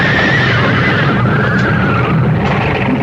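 Terrified carriage horses neigh and whinny in panic in a radio drama sound effect, loud shrill cries over a thick, continuous rumble of wheels and commotion.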